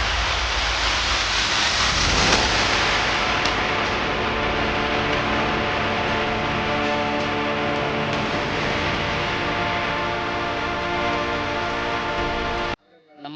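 Heavy rain lashes down in the Malnad coffee-growing hills, a loud, unbroken roar with deep rumbling underneath, building slightly early on before cutting off abruptly near the end.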